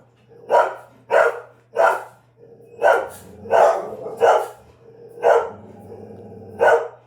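A dog barks repeatedly in loud, sharp single woofs spaced about a second apart, close by, over a low steady hum, with no talk.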